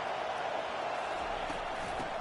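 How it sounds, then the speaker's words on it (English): Stadium crowd noise from the College Football 25 video game during an Ohio State versus Penn State matchup, a steady, dense roar that holds at an even level throughout with no breaks. "This crowd trying to make life miserable for this offense."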